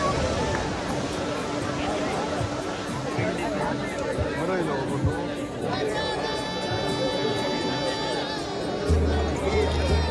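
Large crowd of pilgrims gathered at the seashore in Malvan for holy sea bathing during a festival, a dense continuous hubbub of many voices and movement, with some nearby talk and tonal sounds mixed in.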